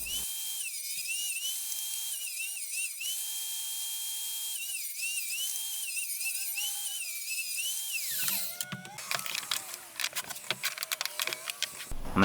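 A power tool cuts a rabbet into strips ripped from 2x6 lumber for drawer sides. A high, steady whine rises and falls for several seconds, then gives way to rough, scattered cutting noise.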